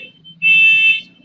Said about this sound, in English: car alarm in the background.